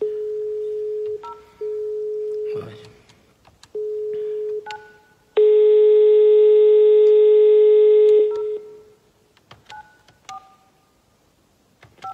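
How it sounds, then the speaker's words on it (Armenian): Telephone tones while calling a subscriber: a run of short dialing beeps separated by pauses, then a loud sustained multi-tone signal for several seconds, followed by scattered fainter beeps. "անենց որ ես կոնկրետ մարդու եմ զանգում"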